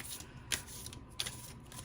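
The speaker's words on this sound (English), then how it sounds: "It is insanely hard to shuffle. You have to even shuffle it. I shuffle it like this" A thick, oversized tarot deck is shuffled by hand, giving soft papery riffles with two sharp card-snap bursts, close and quiet, with no talking.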